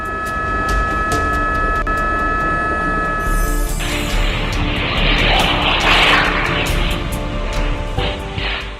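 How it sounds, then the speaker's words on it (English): A Grob G-120A propeller plane engine drones loudly and steadily, then a harsh broadband scraping roar rises and lingers before easing off as it belly-lands after losing a wheel at Phoenix Goodyear Airport. "A Grob G-120A pulled off a controlled belly landing at Phoenix Goodyear Airport after losing a wheel"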